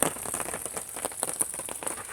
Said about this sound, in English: It is raining, not real hard,